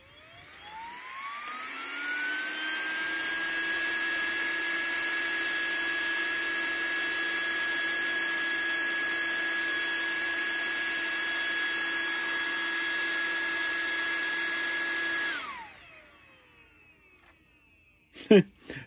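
A small cooling fan on a Traxxas Sledge RC car spins up with a rising whine, holds a steady, loud high-pitched hum for about fifteen seconds close by, then winds down to quiet, followed by a few brief handling clicks.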